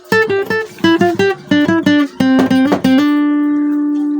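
A quick run of plucked electric guitar notes from the solo of a song, clean and close, ending on one long sustained note that rings out.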